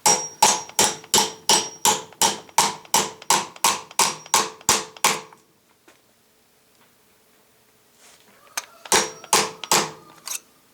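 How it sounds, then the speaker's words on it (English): A hammer taps a Speedi Sleeve installation tool onto a Spicer 23 transfer case yoke in quick, sharp metallic blows, about fifteen in a row, then a pause and a few more strikes, close and loud. "gently tap in the center of the installation tool"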